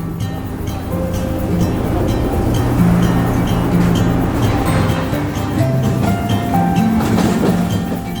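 A train runs along the coastal railway beside the Indian Ocean from Colombo, Sri Lanka, heard from an open carriage door as a loud, steady rumble of wheels with rushing wind throughout.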